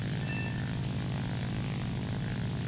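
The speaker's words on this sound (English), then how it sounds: "But the plane picks up its speed again." Steady, loud propeller engine drone of a Ki-87 fighter plane in the War Thunder combat game, a dense continuous roar with airflow rush that holds constant throughout at high speed.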